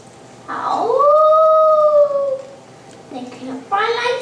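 A voice imitating wolves howling as a story sound effect: one long, rising-then-falling howl close up, followed by shorter, wavering howls.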